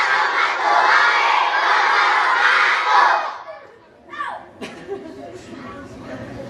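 Many schoolchildren at an Indonesian elementary school shout a greeting together in a loud, sustained crowd roar lasting about three seconds, followed by scattered quieter voices and chatter.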